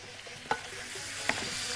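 Beef tongue sautés in Egyptian country butter with black peppercorns: a soft, continuous sizzle with two brief stirring clicks, fairly quiet and close.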